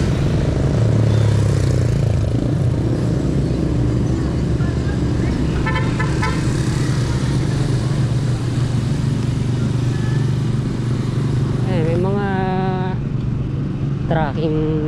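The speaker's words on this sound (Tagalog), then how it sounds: "dito kaya ang daming mga truck" Dense Manila street traffic with many trucks, cars and motorcycles rumbling close by, horns tooting in short bursts midway and near the end, with people talking over the continuous loud engine noise.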